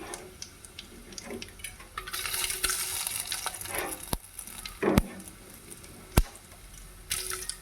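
Curry leaves and urad dal sizzle in hot oil in a pan for upma while being stirred. A steady frying hiss runs under scraping spoon strokes, and a few sharp clinks and knocks sound against the pan.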